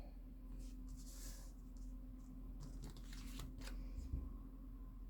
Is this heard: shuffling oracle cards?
yes